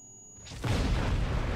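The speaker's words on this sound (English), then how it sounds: "There's an explosion." Explosion in the Star Trek Online video game, a sudden booming burst that rises out of near silence into a sustained loud roar, with no talk.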